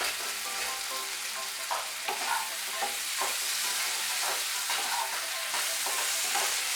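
Potatoes and pointed gourd fry and get stirred in a pan, a steady close sizzle broken by repeated scraping stirs, with no talking.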